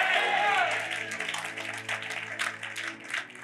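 Congregation clapping hands during a church thanksgiving service, a dense continuous patter of many hands with a preacher's voice speaking over it throughout.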